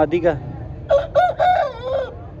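Aseel rooster of Thai and Pakistani cross breed crowing close by, a short opening call followed by a longer drawn-out crow with a rising and falling pitch, loud and clear over a low background hum.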